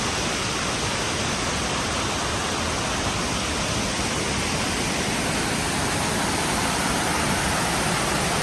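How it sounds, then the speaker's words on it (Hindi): A waterfall on the Kheerganga trek between Kalga and Kheerganga near Kasol roars in a dense, unbroken rush of water, loud and close, holding steady with no speech. "एक ये और वाटरफॉल पड़ा है बीच में, 1 किलोमीटर पहले।"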